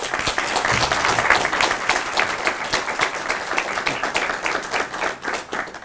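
An audience at a French speaking-contest semi-final applauds steadily, a dense, loud wash of many hands clapping that continues throughout with slight swells.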